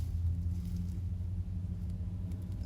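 Car engine idling and rumbling close by as a vehicle pulls in and parks directly behind, a steady low drone with no talking.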